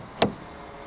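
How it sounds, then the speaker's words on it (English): A 2019 Peugeot 308 SW estate locks when its front door handle is pressed, giving a single short, fairly crisp clunk that fades quickly into quiet. "To lock the car, press the ribbed area on any of the front door handles."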